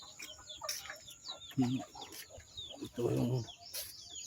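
Chickens clucking in a rural provincial yard, with short clucks and calls scattered between bird chirps, moderately near, while people speak over them.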